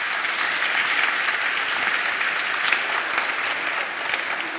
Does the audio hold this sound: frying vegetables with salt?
no